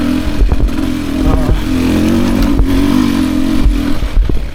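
A 2024 Beta 300 RR Race Edition motorcycle engine runs close by, a steady buzzing drone with a few quick throttle blips and some mechanical clatter.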